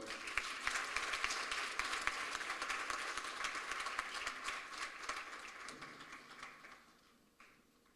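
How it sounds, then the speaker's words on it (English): Applause from a colloquium audience fills the room as a speaker walks to the stage, thick and lively at first, then thinning and fading away to near quiet in the last second. "I'll be inviting you to give her a solid round of applause as she makes her way to the stage"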